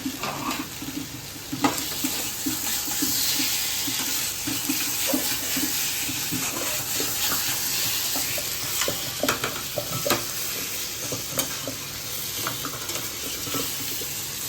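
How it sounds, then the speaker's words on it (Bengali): Paneer sautéing in a pan, a continuous crackling sizzle broken by frequent clinks and scrapes of a spatula being stirred through, close and loud with no voices. "আমি এই পনিরটাও দিয়ে দিলাম, একটু সামান্য কষিয়ে নেব, নেড়ে চেড়ে নিলাম"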